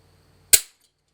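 A 1.5 Duke coil spring trap snapping shut, a single sharp loud metallic snap close by with a quick decay, alone in quiet surroundings.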